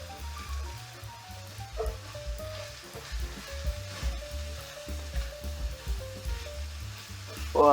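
Peppers, onion and garlic sizzle in a pan for keto sausage alfredo, a soft, steady frying hiss under low rumbling and a few faint clinks.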